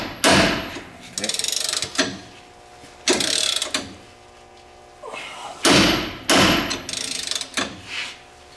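Heavy metallic hammer blows strike a ball joint on a 2013 Dodge Ram 3500 in irregular bursts, loud and close, with short pauses between groups of hits.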